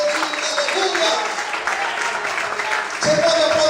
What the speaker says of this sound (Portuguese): Você pode aplaudir o Senhor, aleluia.